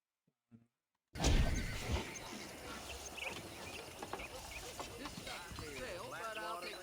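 Horse hooves and neighing in the Red Dead Redemption video game, a faint short sound before a burst of clopping hooves and a whinny, with game ambience and voices talking over it.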